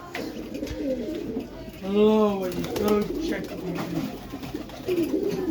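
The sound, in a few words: pigeons cooing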